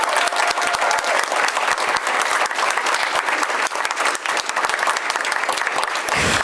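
An audience at a youth speaking event claps hard and continuously for several seconds, a dense, even wash of applause close by.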